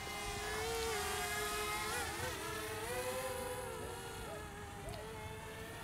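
Steady high-pitched buzzing whine of a DJI Mavic Mini drone returning to home about 100 feet out, its motor pitch wavering as it flies, heard over low wind noise.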